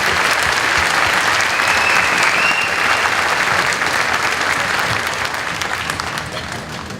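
Sustained loud applause from a large crowd at a high school graduation ceremony, steady clapping that slowly tapers toward the end.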